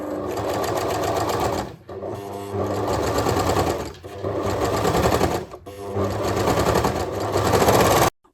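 Serger overlocking the crotch gusset seam of lingerie panties: a loud, fast, steady mechanical whir in three long bursts, each broken by a brief pause.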